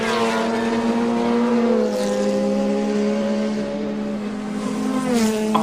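Pilbeam MP58 race car climbing a hill during a hillclimb event, its engine note holding steady and high with layered harmonics, loud and close throughout with no talk over it.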